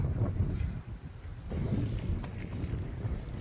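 Gusty wind buffets a microphone on a small fishing boat out on a lake, a low rumbling roar that surges and dips in uneven waves, with faint water movement beneath and no voices.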